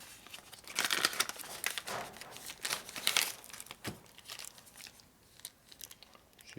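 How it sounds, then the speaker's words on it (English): Plastic bags crinkle and rustle in bursts while parts are packed during a 1992 Harley-Davidson 80ci Evo motor rebuild. The crackling handling noise sounds close, then fades to quieter, sparser rustles. "So you put them in 2 plastic bags because each bag has holes in it."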